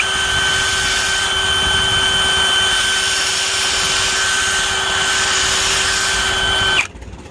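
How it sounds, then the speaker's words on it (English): A power drill whines continuously at high speed, loud and close, boring steadily upward into a maple tree trunk about two inches deep for tapping sap, before stopping abruptly near the end. "My drill is angled slightly upwards as I'm drilling."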